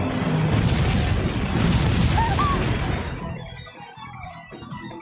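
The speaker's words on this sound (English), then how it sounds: "Cannon fire? This is madness." A deep, rumbling cannon blast from the video game Bravely Default, loud and sustained with debris and crackle before slowly fading into a quieter tail; no speech.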